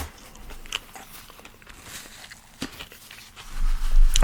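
Close crunching bites and chewing of a military combat ration, a few sharp crackly crunches scattered over a quiet background, with a heavier rustle or handling noise building at the end.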